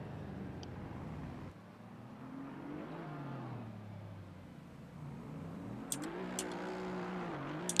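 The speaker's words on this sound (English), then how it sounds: "As we now get to see some donuts from the drivers." Race car engines revving and sweeping up and down in pitch as drivers spin donuts after a GT race at Circuit de Barcelona-Catalunya in Assetto Corsa Competizione, with a few sharp chirps near the end, moderately quiet.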